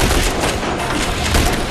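Dense, loud gunfire in the squad shooter game The Bureau: XCOM Declassified, a rapid burst of overlapping shots and impacts lasting under two seconds with no speech.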